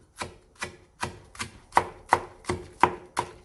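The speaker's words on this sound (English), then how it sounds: "then I'll continue chopping like so" Steady knife chops through potato on a cutting board, about nine crisp strikes at an even pace, close and clear with no talking.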